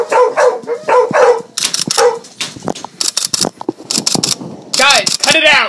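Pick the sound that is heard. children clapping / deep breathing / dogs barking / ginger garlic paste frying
dogs barking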